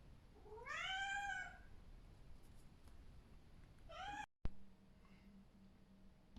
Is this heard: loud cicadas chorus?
no